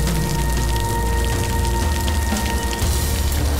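Steady rain falls in a continuous even hiss with no pauses, heard alone without voices and mixed with a low background hum.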